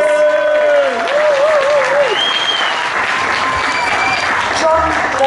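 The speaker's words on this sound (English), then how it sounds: "I think it's only fit that we applaud Gary Burrows." An audience applauds Gary Burrows at a 2016 singing performance, a steady bed of clapping with whistles and cheering voices rising above it throughout.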